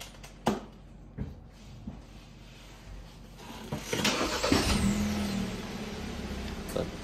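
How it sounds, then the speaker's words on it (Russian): A Kia Rio car being started after chip tuning to Euro 2 emission settings: a few sharp clicks and knocks, then the engine catches around the midpoint and settles into a steady, moderately loud running hum. "Заводи автомобиль."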